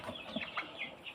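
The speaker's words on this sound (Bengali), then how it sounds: "এই মুরগিগুলো এগুলো হলো সোনালি কালার বাট মুরগি" Sonali chickens on a poultry farm giving a few soft, short clucks and calls in quick succession, faint and nearby, with no talking.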